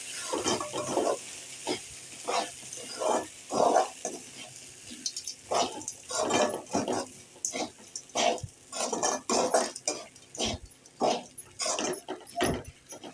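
A spatula stirs and scrapes idli upma in a pan on a low flame, giving irregular soft scraping and clattering strokes in a steady uneven rhythm, close and fairly quiet, with no talk.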